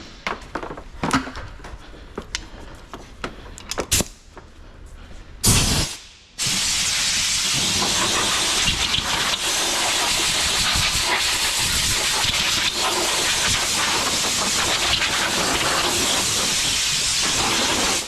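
Compressed air blasts steadily against a very dirty air filter from a 2020 Mercedes-Benz GLC 200, a loud continuous hiss that starts after a few seconds of scattered handling noises and holds without a break to the end.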